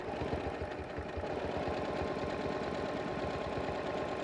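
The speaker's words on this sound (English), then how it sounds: "Working in free motion quilting mode, so your feed dogs are lowered." A home sewing machine runs in free motion quilting mode with lowered feed dogs and a ruler foot, giving a continuous rapid rhythmic stitching hum at moderate volume throughout.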